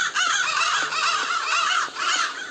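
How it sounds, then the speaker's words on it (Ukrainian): Continuous, loud, raspy crow cawing from the Roblox game Doors, The Outdoors, runs throughout as a dense overlapping chorus with no clear breaks and no voices. "О, ворона."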